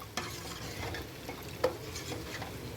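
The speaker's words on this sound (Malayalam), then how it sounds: "മോരുകറി ഉണ്ടാക്കുമ്പോൾ ഇളക്കിക്കൊണ്ടിരിക്കണം, അല്ല പിരിഞ്ഞു ഇരിക്കും." Buttermilk curry (moru curry) stirred in a pot, with soft scraping and an occasional light clink of the spoon against the side over a faint bubbling background, nearby and quiet.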